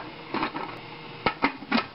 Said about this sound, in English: Now I'm going to put the lid on.